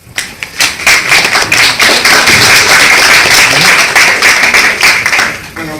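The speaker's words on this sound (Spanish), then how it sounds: "Démosle un fuerte aplauso" An audience at a philosophy congress applauds, a dense burst of close clapping that swells quickly and holds steady for several seconds before tapering off, with no voices over it.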